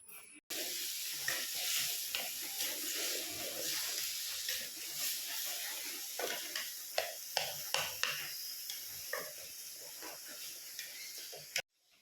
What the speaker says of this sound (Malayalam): ഈ നാല് തക്കാളി ചെറുതാക്കി എരിഞ്ഞ് അതും കൂടി ചേർത്ത് നന്നായിട്ട് വാട്ടിയെടുക്കുക